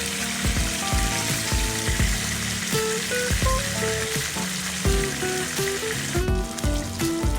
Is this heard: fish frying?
yes